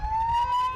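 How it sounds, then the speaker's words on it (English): An ambulance siren wails in a street after an attack. It is a steady high tone that rises slightly, with low traffic rumble underneath. "the wail of ambulances pierced the uneasy calm"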